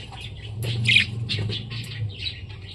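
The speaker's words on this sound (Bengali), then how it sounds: "এই আর একটা স্প্যাঙ্গেল রেনবো বাজিগার পাখি" Spangle rainbow budgerigars in a cage give a string of close, bright chirps and squawky chatter over a low steady background hum.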